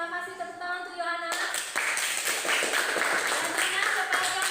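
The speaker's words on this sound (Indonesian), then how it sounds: "Tepuk tangan untuk Yohana." Students in a classroom clap for a classmate after a teacher's brief spoken cue, a dense, even round of applause from many hands that continues steadily to the end.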